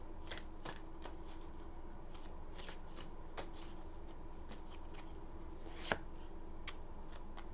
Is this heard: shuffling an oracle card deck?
yes